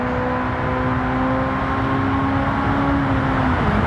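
The engine of a Honda Civic SiR EG hatchback in Gran Turismo 7, during a Tsukuba Circuit time trial, holds a steady, sustained drone at high revs with no talk over it.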